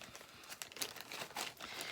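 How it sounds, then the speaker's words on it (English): A plastic bag holding small stretchy fidget toys crinkles and rustles in quick, faint bursts up close for about two seconds. "Then in this plastic bag, I put a couple of these stretchy, fidgety things"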